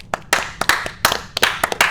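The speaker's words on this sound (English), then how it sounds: "So round of applause, Georgia." A few people clapping hands in quick, uneven claps close by, a short round of applause with no talk over it.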